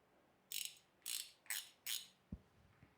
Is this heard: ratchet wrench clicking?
yes